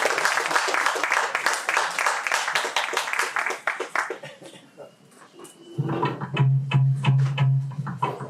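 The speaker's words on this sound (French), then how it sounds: "Vous applaudissez." Audience at a film screening event at an arts school in Dakar applauds with dense, steady clapping that fades out after a few seconds, then a murmuring crowd with a low hum follows.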